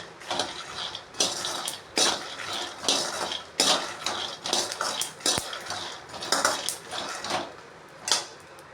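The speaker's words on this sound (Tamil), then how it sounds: "இந்த கடலை வறுப்படும் போது மிளகாவும் கிறிஸ்பி ஆகிடும்." Peanuts roasting with dried chillies in a kitchen pan, stirred in repeated bursts of dry rattling and scraping with short pauses between strokes, close and fairly quiet.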